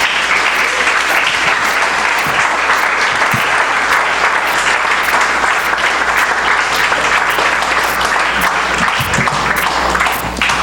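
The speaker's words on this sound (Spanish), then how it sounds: "Damos fuertes palmas al nombre del Señor." A large church congregation claps loudly and continuously, dense sustained applause filling the whole stretch without pause.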